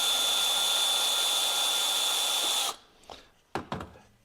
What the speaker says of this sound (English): I've switched the Forstner bit over to the drill press, and then I'll finish off the holes for those dowel rods.